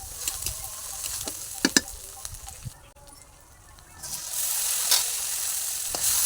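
Masala frying with ground tomato paste in a pan, a steady hiss of sizzling under intermittent stirring scrapes, close up, swelling louder toward the end.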